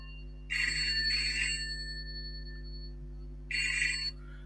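A telephone rings indoors in two electronic trilling bursts, a long double ring and then a shorter one after a pause, clear and fairly close over a steady low electrical hum, with no speech.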